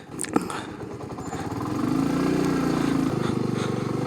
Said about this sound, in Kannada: ನಾವು ಬೈಕಲ್ಲಿ ನಿಧಾನಕ್ಕೆ ಒಂದು ಚೂರ್ ಮುಂದೆ ಹೋಗ್ತಾ ಇದೀವಿ